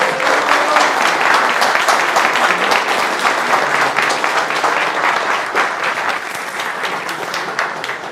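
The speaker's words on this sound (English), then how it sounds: "So round of applause." Audience applause at an Irish whiskey society tasting evening, a dense, steady burst of many hands clapping close by that holds for about eight seconds and eases slightly toward the end.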